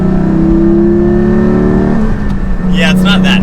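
Engine of a Porsche Cayman GT4 on a test drive holds a loud steady drone, then shifts lower as the car accelerates, with a voice speaking briefly near the end.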